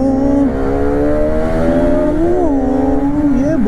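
An eight-year-old RS 200 BS3 motorcycle revs close up, its engine and exhaust holding a loud, steady harmonic tone that dips and climbs through a couple of quick throttle blips.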